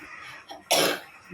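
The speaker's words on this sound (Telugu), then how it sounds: "దగ్గు వస్తుంది" A single sharp cough from a person with a slight fever, close by in a home kitchen while peanut payasam simmers, preceded by a faint throat sound and followed by quiet room noise.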